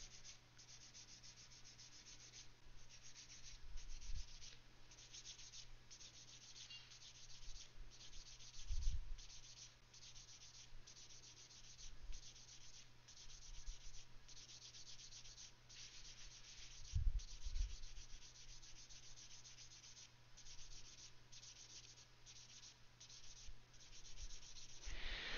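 Sanding along a seam line on a plastic Gundam model kit part, a steady close-up scratching rub repeated in short back-and-forth strokes for the whole stretch, with occasional louder bumps and no talking.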